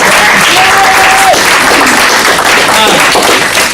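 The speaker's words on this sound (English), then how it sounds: "let's clap it up for Tom." An audience at a youth empowerment partnership event breaks into loud, sustained applause, a dense wash of clapping that fills the room from start to finish, with a brief tonal squeal and faint voices beneath.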